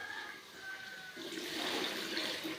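Water pours into rice flour in a home kitchen, a soft splashing gush that strengthens after a second and keeps running, quiet and close, with no talking.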